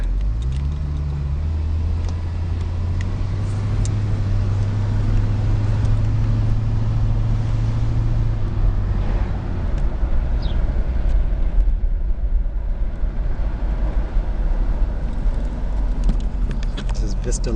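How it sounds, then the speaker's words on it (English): A 1979 Mercury Cougar XR-7 driving away, its low engine drone fading as it pulls off and leaving steady road and background noise. "The car moves away pretty quickly"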